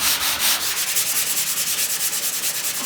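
Steady back-and-forth rasp of a sanding block worked by hand along a body line on a 1968 Camaro, rhythmic strokes close up with no talking.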